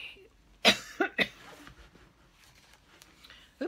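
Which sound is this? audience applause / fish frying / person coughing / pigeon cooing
person coughing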